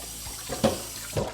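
Tap water running into a sink while chicken thighs are washed, a short steady flow with a couple of louder splashes, close by.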